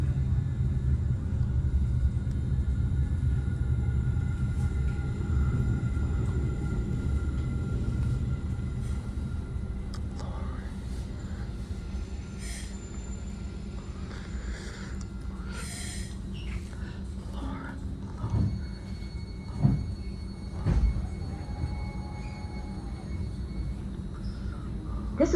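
Low, steady rumble of a southbound Caltrain local commuter train pulling into Lawrence Station, with faint squeals and clanks rising over the drone as it slows, no talking.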